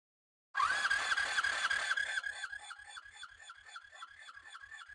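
Honda V65 Sabre V4 engine cranking over on the starter with the throttle open during a compression test, a loud rapid rhythmic churning with a whine at first that slows into distinct evenly spaced compression pulses, heard alone.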